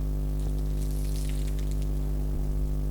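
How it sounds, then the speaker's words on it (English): Salty water is tipped out of a glass, a short splashing pour over a steady low hum, heard alone with no talk. "I'm throwing the water now,"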